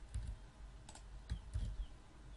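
Light tapping on a computer keyboard while entering a work phone number into a form, a few scattered soft key clicks at a quiet, close level with no speech.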